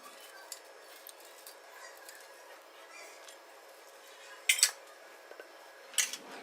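A spoon stirs shrikhand with cashews, almonds and chocolate pieces in a bowl, quiet scraping punctuated by a couple of sharp metallic clinks near the end.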